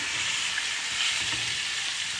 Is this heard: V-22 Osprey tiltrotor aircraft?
no